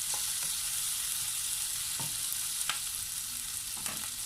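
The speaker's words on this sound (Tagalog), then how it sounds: "after ng 1 minuto, ayan, hahaluin po muli natin ng konti" Salmon sizzles steadily in a frying pan, a constant hissing fry with a few soft scrapes as it is stirred, fairly quiet and close, no talking.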